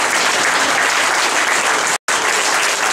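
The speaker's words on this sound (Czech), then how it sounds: "Zatleskejte panu dirigentovi." At a brass band parade concert, an audience claps loudly for the conductor, with a thick, continuous wash of applause that cuts out for a split second and then resumes.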